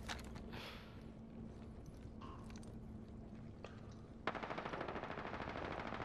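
Automatic gunfire from other players in Apex Legends, faint and distant at first, then a rapid, evenly spaced burst of shots rattling steadily through the final couple of seconds.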